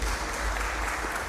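An audience at a university keynote session applauds, a short dense burst of steady clapping with no pauses.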